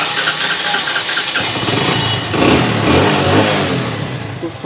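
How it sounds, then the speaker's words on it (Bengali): A 2017 Hero Splendor motorcycle engine runs close by, idling with a steady putter before a short rev swells the sound and settles back, loud and alone. "গাড়ি ইঞ্জিনের সাউন্ড কিন্তু খুব সুন্দর আছে"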